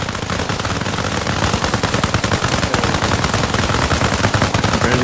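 Gunfire in the military shooter Arma Reforger, loud and close, with sustained rapid automatic bursts hammering continuously for the whole stretch and no voices over it.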